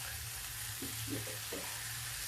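Spinach going into a hot pan for a creamy pea, cashew and raisin curry, with a steady broadband frying sizzle throughout and a few soft stirring knocks and scrapes near the middle.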